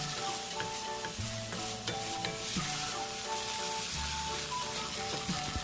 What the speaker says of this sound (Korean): 계란물을 반만 부어 계란이 살짝 몽글몽글해지도록 저어줍니다